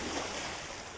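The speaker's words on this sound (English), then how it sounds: "Splash!" A water sound effect stands for a troll falling from a bridge into a river in a read-aloud fairy tale, heard as a steady, soft watery wash with no voice.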